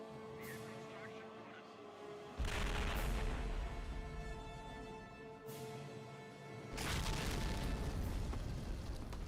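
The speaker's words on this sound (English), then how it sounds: "Ah, explosions." Video game explosions: two heavy, loud booms a few seconds apart, each bursting into a long rumbling roar that fades slowly over a steady game background.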